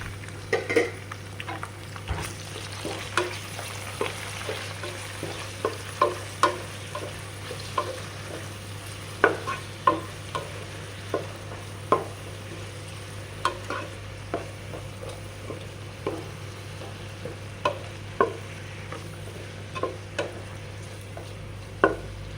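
Onion and tomato fry in a pan for a stuffed capsicum gravy curry, with a steady low sizzle under regular scraping strokes of a spoon stirring the mixture.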